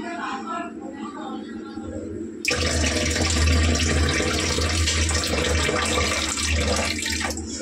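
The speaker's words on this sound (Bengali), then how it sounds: "ডালটা কিন্তু একটু জল দিয়ে ধুয়ে দেবো।" Lentils (dal) are rinsed under running water in a kitchen. A voice speaks briefly before the water gushes in, and the steady stream then continues loud and close to the end.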